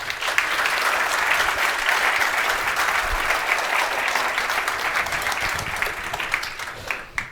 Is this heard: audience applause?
yes